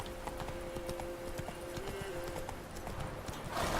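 Horse hooves clip-clop in The Witcher 3, a quick, steady run of close hoofbeats beneath game sounds, with a soft tonal hum, building to a louder burst at the end.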